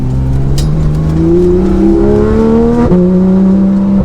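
A Porsche 911 GT3 RS engine hums steadily at low revs, under 3,000 RPM, through a turn, its pitch rising, dipping briefly and climbing again, loud and close from inside the car.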